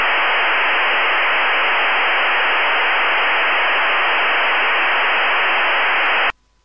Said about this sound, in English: This is now what is heard when a scanner attempts to listen to a digitally encrypted radio.